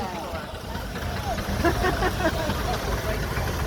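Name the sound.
steam traction engine running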